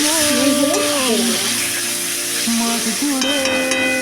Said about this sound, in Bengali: এখন আমি এই তেলের মধ্যে আলুটা হালকা করে ভেজে